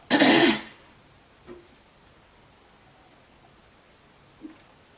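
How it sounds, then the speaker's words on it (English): A single harsh cough or throat clear bursts out at the start, followed by quiet room tone and a couple of faint small sounds. "excuse me as I try not to cough my brains out on you"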